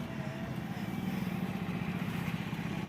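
Motorcycles arriving on the road to Purnagiri, a steady low engine drone over road noise, fairly continuous and moderately close.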